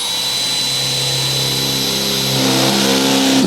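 An expensive drill bit on a power drill cuts through the roof of a 38-foot school bus, a loud steady whine with a sustained grinding drone that rises slightly in pitch toward the end, with no talk.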